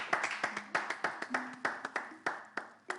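Sparse, distinct hand claps from a small audience at a gathering come in an uneven rhythm, fairly close, with a brief voice tone faintly underneath.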